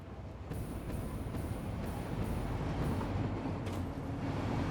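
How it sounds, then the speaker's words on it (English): A train in the factory-building game Satisfactory rumbles past in a broad, steady roar, with faint rhythmic clacks repeating at regular intervals as it passes. "And the train, yep, there it goes."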